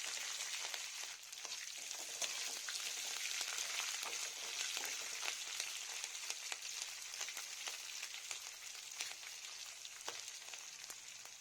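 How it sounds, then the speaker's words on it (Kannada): Green chillies frying in hot oil in a pan for mango chitranna, a steady dense sizzle with crackling pops running throughout, close and fairly loud, with no voices. "ಮೆಣಸಿನಕಾಯಿನ ಸ್ವಲ್ಪ ಹೊತ್ತು ಬಾಡಿಸ್ಕೊಂಡ ನಂತರ"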